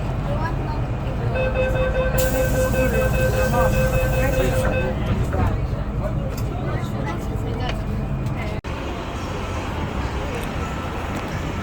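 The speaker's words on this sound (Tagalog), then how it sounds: "Ito na ang train." A train pulling into a station, loud rumbling wheels and rolling noise with a sustained tonal brake whine, with people talking nearby.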